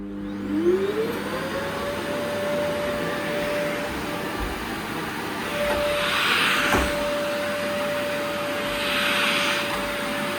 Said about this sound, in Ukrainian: Я пилососі тут включаю.